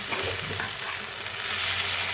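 Onions fry in oil in a pan on a stove with a loud, continuous sizzle and steady crackle, close up and unbroken, with no talking.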